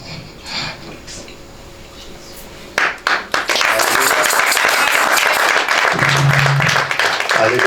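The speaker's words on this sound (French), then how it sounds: "Merci d'acclamer" An audience at a church testimony gathering breaks into loud, sustained applause and cheering after a short quiet stretch of speech, and the clapping fills the rest of the clip.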